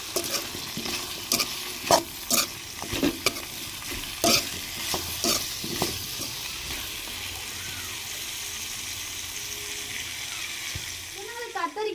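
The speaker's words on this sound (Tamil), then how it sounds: "இந்த கத்திரிக்காயுமே வந்து இந்த எண்ணெயில் கொஞ்சம் நேரம் போட்டு வதக்கி எடுத்துக்கிறோங்க" Brinjal sautés in hot oil, and a ladle clatters and scrapes in irregular knocks over a constant close sizzle.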